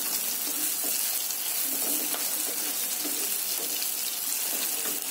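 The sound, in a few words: radish added to fried onion and tomato in pan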